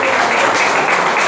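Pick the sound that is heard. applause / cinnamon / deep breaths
applause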